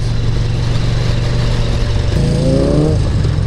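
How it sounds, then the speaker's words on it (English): Kawasaki Z900 motorcycle engine droning steadily nearby, with a rising rev toward the end as the rider attempts a wheelie, heavy wind and road rumble throughout. "Oh, you trying to do a wheelie, bro?"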